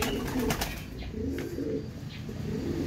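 A young racing pigeon arrives at the loft, with soft, close cooing and brief wing flutters over a low background hum.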